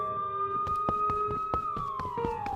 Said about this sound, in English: In moments, she heard the police sirens outside.